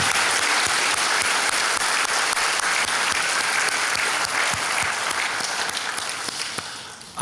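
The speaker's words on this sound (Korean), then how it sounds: "우리 어린 친구들을 환영하는" A church congregation applauds to welcome children at a Christmas Day service, a broad sustained round of clapping with distinct individual claps standing out, gradually fading toward the end.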